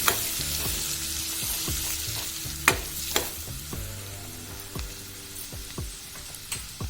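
Homemade masala is stirred into onions sizzling in a pan. A steady frying hiss runs throughout, with sharp ladle knocks and scrapes at irregular intervals.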